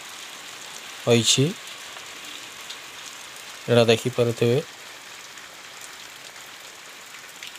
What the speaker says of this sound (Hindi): अगस्त 19 तारीख 3टा समय रे माने प्रबल वर्षा